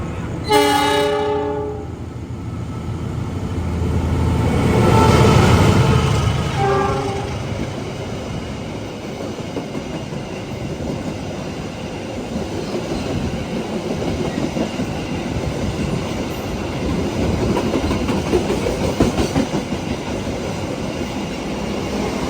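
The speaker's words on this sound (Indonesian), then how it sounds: "Kereta yang akan melintas langsung adalah kereta api Brawijaya dari stasiun Malang tujuan stasiun Gambir" Brawijaya passenger train running through a station without stopping, horn blasts sounding early on, then a loud swelling rumble and steady clatter of cars passing close by.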